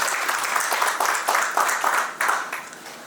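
An audience at an industry association meeting claps together in a dense burst of applause. It sounds close and fairly loud, swells in waves and fades slightly toward the end.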